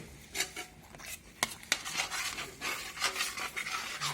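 Makhani gravy being stirred and mixed in a pan, with irregular scraping and rubbing strokes of a utensil against the metal and a couple of sharper knocks, close up and moderately quiet with no talk.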